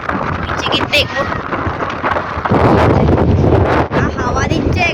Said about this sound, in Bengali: হাওয়া দিচ্ছে, এখানে কিছু শোনা যাবে কি যাবে না আমি জানি না